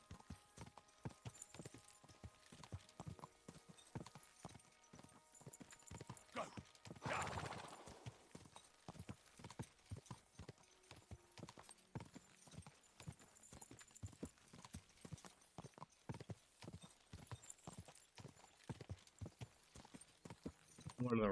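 Rapid hoof clip-clops pound steadily throughout as a horse gallops in the video game Kingdom Come: Deliverance II, with a brief whinny partway through and talk drifting in over the hoofbeats.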